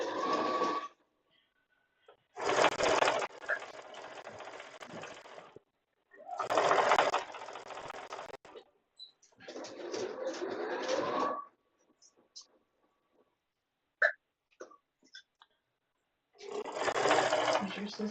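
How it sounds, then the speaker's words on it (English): A sewing machine stitches in several short bursts, each a dense mechanical whir, broken by pauses and a few brief clicks; a squeak may come as the needle stops. "if you guys hear a squeak, that is my machine. It is squeaking when I hit stop the needle"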